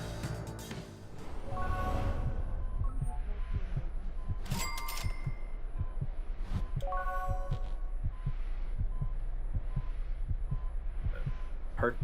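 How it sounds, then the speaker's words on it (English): A steady heartbeat thumps in a regular rhythm over a low hum, with occasional chimes and bright electronic tones sounding above it, in the video game Driver: San Francisco. "Heartbeat sound."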